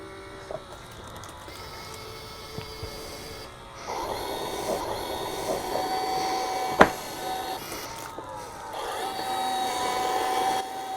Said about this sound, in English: Then the rake extends again.